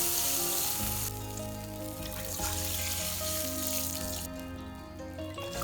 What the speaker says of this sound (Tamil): நல்லா கொதிக்கட்டு தண்ணி